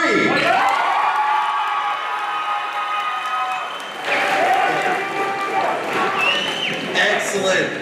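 A large crowd of students cheers and shouts loudly and continuously at a school event, a dense roar of voices that swells again partway through.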